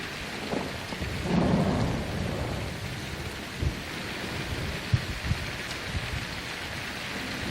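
Steady rain pours down while low rumbles of thunder roll and crack a few times, fairly close, with no voices.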